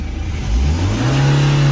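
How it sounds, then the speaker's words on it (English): A BMW 1 Series engine revving in neutral from idle, its pitch climbing and then holding steady at a high whine, loud and close. "Give it a rev."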